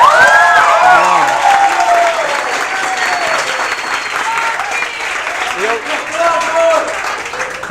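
A studio audience at a TV talk show breaks into sustained, loud applause, with a few voices cheering at the start and near the end.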